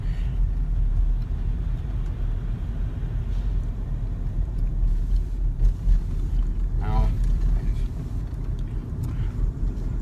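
Inside a moving car, a constant low road rumble and engine drone fills the cabin, with a brief rattling thump partway through.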